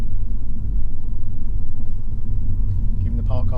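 An electric car rolling along a road on a sunny day with regenerative braking engaged, giving a steady low rumble of tyres and road noise inside the cabin, and a brief chime near the end.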